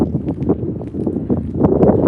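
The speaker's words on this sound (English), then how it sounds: "It's windy, guys." Wind gusts outdoors during a short walk and buffets the microphone, giving a steady, rough rumbling roar that swells slightly toward the end, with no one speaking.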